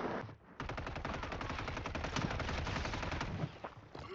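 Sustained automatic gunfire in the Warzone 3 video game, a fast, even rattle of shots at steady loudness that runs almost unbroken for over three seconds after a short pause.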